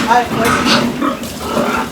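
Pigs grunt and squeal inside a truck in a busy, continuous mix, with voices talking over the animals throughout.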